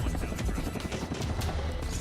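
Loud, dense movie action scene of helicopters crashing amid big explosions, with continuous booming rumble and crackling bursts throughout, busy and full-bodied with no pauses.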